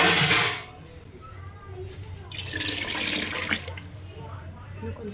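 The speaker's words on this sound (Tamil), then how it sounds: "இப்போ நான் ரெண்டே கால் சொம்ப அளவுக்கு நான் தண்ணி சேர்த்துருக்குறேன்" Water poured into a pressure cooker pot while making a sprouted horse gram curry, a brief loud splash at the start followed by a softer running trickle and light clatter close by.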